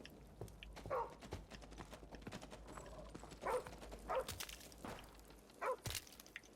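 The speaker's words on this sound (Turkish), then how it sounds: "bir tane adam köpek iki tane köpek bizi burada mahvediyor ya" Dogs in Call of Duty Modern Warfare Remastered, during a firefight at an amusement park, give several short sharp barks spread across the moment amid steady game noise and footsteps.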